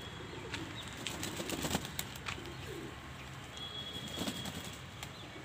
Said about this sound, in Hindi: अभी सभी कबूतर नहा कर के बैठे हुए हैं यहाँ पर।